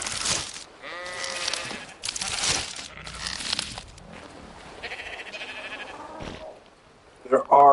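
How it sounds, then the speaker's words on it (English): Sheep bleating in the video game Ark, several wavering bleats in quick succession with quiet gaps between them, ending in a short, louder burst of sound. "There are technically pink sheep up there."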